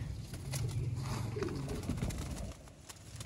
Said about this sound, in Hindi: सलारे टैडी कबूतर ने, लोहे चीने ने।